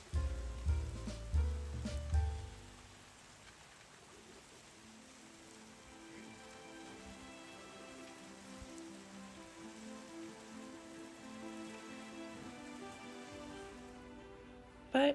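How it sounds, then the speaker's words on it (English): Heavy rain comes down on a farm, a dense continuous hiss of drops on surfaces after a few dull low thumps at the start, steady and moderately loud throughout. "because the rain was"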